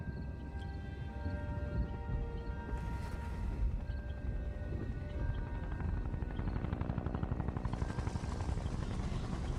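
A helicopter drones steadily with rapid rotor chop in the background, joined by bursts of distant gunfire and a rising mechanical whine.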